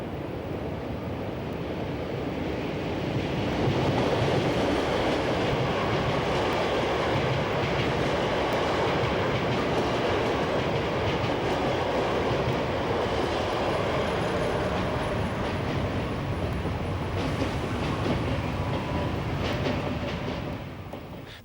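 Trains rumble across the Rhine railway bridge at Cologne in a long, steady roar of rolling wheels and rail clatter, heard from a distance on the river without any voices.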